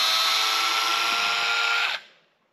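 DeWalt gyroscopic screwdriver driving a screw into a pre-drilled hole, a loud, close, steady motor whine with a tonal buzz lasting about two seconds before stopping sharply and fading.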